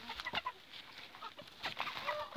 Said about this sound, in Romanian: un pui de Brahma Hermit deschis, scos de la acea cloșcă